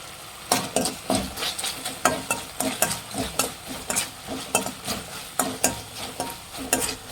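Restaurant-style chicken 65 frying in a pan, a steady sizzle broken by regular, fairly loud scraping strokes of a spoon stirring the pieces, with no one talking.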